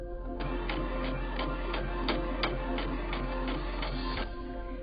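An inkjet-style home printer runs through a page, its steady mechanical hum carrying a regular series of ticking, clicking strokes as the print head moves back and forth, close and continuous.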